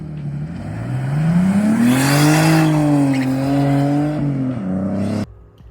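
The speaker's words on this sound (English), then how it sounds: "So with the car running now" A turbocharged BMW E46 engine runs loudly nearby, its pitch rising and falling as it revs, with a hissing turbo whine on top before it suddenly drops off.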